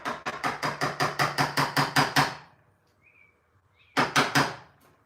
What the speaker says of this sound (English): This is a mortise chisel right here